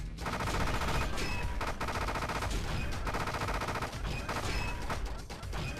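Sustained rapid gunfire from shooting in the video game Gigantic Army, a dense, loud, continuous barrage with brief dips, while a voice talks faintly underneath.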